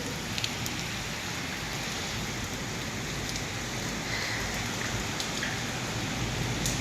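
Steady rain pours down in a dense, even hiss, heard from a balcony, with drops pattering on surfaces and occasional sharper ticks.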